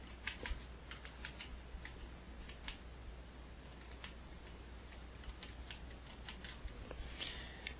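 Quiet, irregular clicks of keys being struck on a computer keyboard, a steady scatter of light taps over a faint hum.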